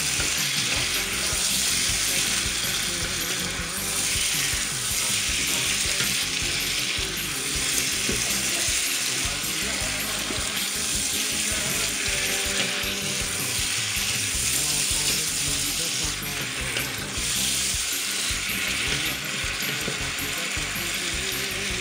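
Sliced tomatoes fry on high heat for a chicken curry with calabash and chayote, making a loud, continuous sizzle with faint stirring clatter throughout and no talking.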